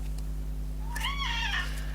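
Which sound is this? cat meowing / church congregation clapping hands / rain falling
cat meowing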